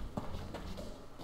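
Footsteps in the video game Survarium, a steady patter of soft steps at moderate distance under a low ambient game background.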